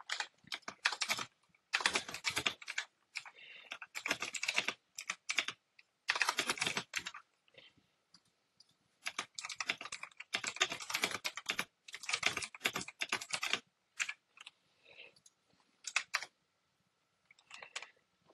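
Bursts of rapid clicking keystrokes on a computer keyboard, alternating with short pauses, close and fairly quiet, with no talking.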